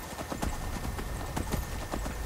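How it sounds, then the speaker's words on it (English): Hoofbeats of a horse galloping in the video game Skyrim, a rapid, steady clip-clop rhythm heard up close over a dense game soundscape. "There's Shadowmere. Come on, my horse. My trusty horse."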